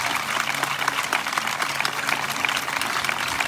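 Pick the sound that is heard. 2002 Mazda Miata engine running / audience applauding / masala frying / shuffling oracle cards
audience applauding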